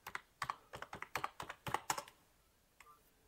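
Typing a terminal command on a computer keyboard attached to a Mekotronics R58-4X4 RK3588 computer: a quick run of about a dozen sharp, close key clacks, then a pause and a couple of final taps.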